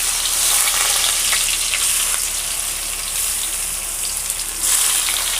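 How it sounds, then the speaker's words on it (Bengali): Rice frying in a pan with cinnamon sticks and cracked cardamom pods for hilsa pulao gives a steady, close, loud sizzle that hisses unbroken throughout, with no voices. "এর মধ্যে চালগুলো দিয়ে একটু ভেজে নেব"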